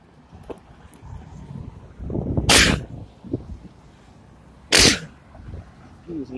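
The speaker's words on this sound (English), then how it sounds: "Sneeze." Two loud, sudden sneezes burst out a couple of seconds apart on a street in Whitehall, New York, over faint background noise and rustling.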